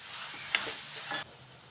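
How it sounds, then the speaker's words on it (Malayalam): Chopped ridge gourd is stirred in a frying pan: soft scraping strokes over a quiet, continuous sizzle. "ഇളക്കി കൊടുക്കുക"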